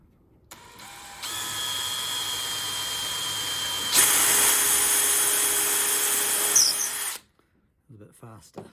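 A power drill drives a screw into wood on a building job, whining steadily for several seconds and then shifting into a louder, harsher hammering rattle before cutting off. Brief talk follows right after.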